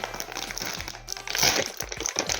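A plastic toy packet from a prehistoric sea-predator figure series being torn open by hand, giving close, continuous crinkling and crunching with scattered sharper rustles, with no talking.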